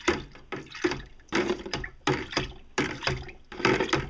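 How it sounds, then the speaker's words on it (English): A sanitized spoon stirs molasses imperial Russian stout wort inside a homebrew fermenter, giving loud, close sloshing and swirling liquid in repeated surging strokes, roughly one every three quarters of a second, with no talking. "We're just going to stir that up real good."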